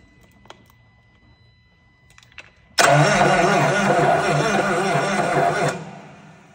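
A diesel engine hung from a chain cranks loudly and steadily for about three seconds, with a broken rod suspected, after a few faint clicks, then drops off abruptly.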